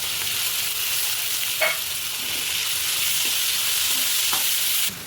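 Garlic and ground spice paste sizzle and fry steadily in a hot pan with onions and bay leaf for chicken kosha, a continuous close hiss broken by a few soft stirring scrapes, with no talking.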